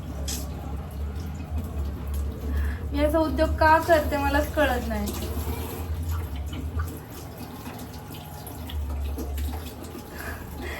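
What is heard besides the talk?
running tap water over burned hands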